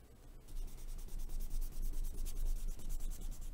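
A rubber eraser scrubs steadily across a drawing on paper, a close, continuous rasping rub with quick back-and-forth strokes and no talk.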